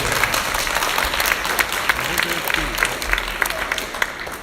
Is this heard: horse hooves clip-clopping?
no